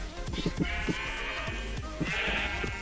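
Sheep in the Minecraft video game bleat several times in quick succession, clear and close, the nasal game bleats overlapping against a steady background.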